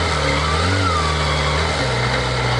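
A Kawasaki ZX-25R motorcycle's high-revving inline-four engine hums steadily while riding, its pitch shifting up and down over a continuous close, loud drone with wind.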